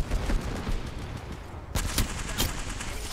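Gunfire in Apex Legends, including an L-Star light machine gun and a Kraber, with a dense stretch of continuous shooting followed by several sharp, loud individual shots.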